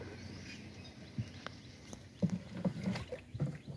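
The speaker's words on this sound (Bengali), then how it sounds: "এখন ঘোরাও ঘোরাও, নৌকাটা ঘোরাও।" A wooden rowboat is turned among water lilies on a lake at Basail, with soft knocks, paddle splashes and water lapping close by, quiet and irregular, a few sharper bumps toward the end.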